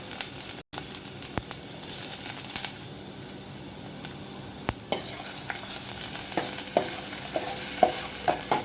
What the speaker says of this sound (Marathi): आता लसूण आणि मिरची घालून घेणार आहे. त्यानंतर कांदा घालून घेणार आहे.